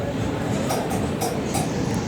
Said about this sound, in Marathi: आता ट्रेन आली आमची, बघू शकता